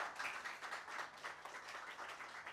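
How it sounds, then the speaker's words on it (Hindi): An audience claps at a lecture on traditional scriptural teaching methods, a quiet, distant patter of many hands that holds steady for a couple of seconds with no voices over it. "ठोको ताली"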